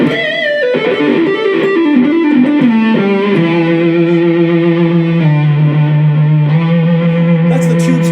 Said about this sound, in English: That's the tube screamer setting.